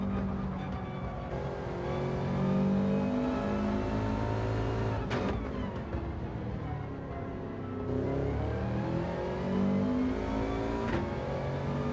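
A race car engine in Gran Turismo 7 drones steadily at high revs, with throttle lifting and rising again partway through, loud and close throughout with no talking.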